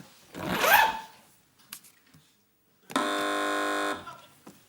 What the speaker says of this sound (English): It was a zip, yeah.